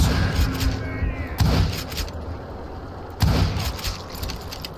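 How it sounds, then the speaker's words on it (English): A Gatling gun blasts in the video game Call of Juarez: Gunslinger, two heavy bursts of rapid fire with booming impacts, separated by a quieter stretch of rumbling background. "Kid Curry opened up on me with a goddamn Gatling gun"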